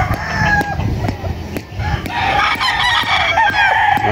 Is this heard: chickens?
yes